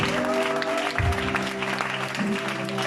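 Church congregation applauding during a morning worship service, continuous clapping with sustained musical tones and a brief voice underneath.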